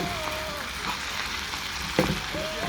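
Marinated oxtail browning in a pot, giving a steady close sizzle with soft shifting and one brief louder crackle, with faint talk in the background.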